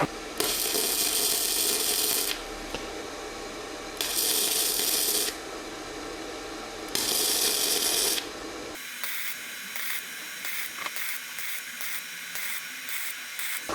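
Thin steel being MIG welded with a Pumpkin PTT-MIG120 welder set to wire feed 4 and amperage 5: three loud bursts of crackling, buzzing arc noise, each about one to two seconds long, separated by quieter pauses, then a lower steady hum.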